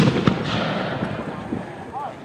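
Cannon or mortar fire at a muzzle-loading artillery match: a single sharp blast near the start, followed by a rumbling, reverberant outdoor tail that fades over about two seconds.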